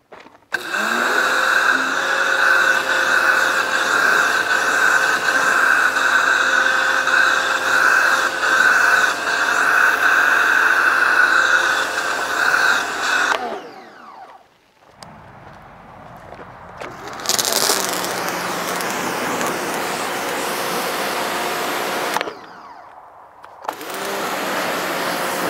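A WHOLESUN electric pressure washer motor whines loudly and steadily for about thirteen seconds, then cuts out and restarts in shorter bursts with brief pauses between them.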